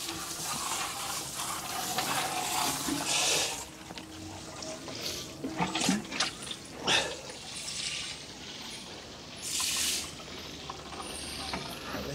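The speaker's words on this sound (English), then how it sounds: "But I just need to keep those well watered" Water splashes onto winter vegetables on an allotment, a steady hiss of spray with uneven gushes and patters coming and going over about twelve seconds, fairly quiet, with no talking.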